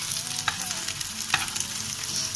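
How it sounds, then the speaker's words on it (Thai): Shrimp sizzle and crackle in a hot pan, with a couple of sharp scraping stirs cutting through the steady frying hiss. "กุ้ง ทอดไปสักพักนะคะมีสีออกมานิดนึงแล้วนะคะ"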